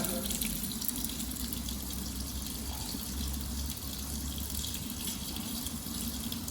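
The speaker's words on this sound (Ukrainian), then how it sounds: "Тепер просто починаємо споліскувати звичайною водопровідною водою." Steady running tap water splashing into a sink, a continuous hiss and gurgle with no talking.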